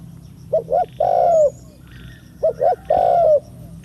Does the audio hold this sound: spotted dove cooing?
yes